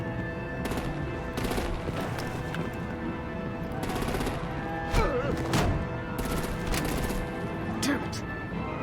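Rapid bursts of gunfire and heavy artillery blasts in the Batman: The Enemy Within video game, in repeated loud volleys over a steady tonal backdrop with voices speaking through the action.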